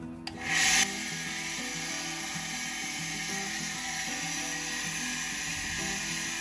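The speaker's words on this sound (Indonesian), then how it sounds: "kita masuk ke tahap pengamplasan" Steady rhythmic rasping of a tapak jalak agate gemstone being rubbed on abrasive sandpaper after 500-grit grinding, close and continuous, after a brief louder scrape at the start.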